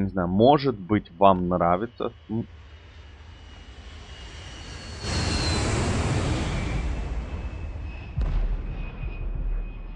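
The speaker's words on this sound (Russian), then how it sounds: "самолет где-то рухнул" Airplane crash in the survival game Last Day on Earth: a rising roar of aircraft engine and rumbling impact noise swells after someone speaks, holding loud for several seconds with a second burst near the end.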